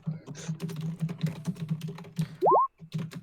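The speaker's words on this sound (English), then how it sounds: "Zakana, your mechanical keyboard's intense, buddy." Loud mechanical keyboard with rapid clacking keystrokes in quick irregular bursts, close to the microphone, with a brief electronic chirp partway through.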